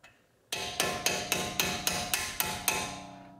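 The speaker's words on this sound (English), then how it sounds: "Grab a hammer and just tap it up." A hammer taps a BMW 340i brake retainer clip pin eight times in a steady rhythm, each sharp ringing tap close and clear with a short metallic decay.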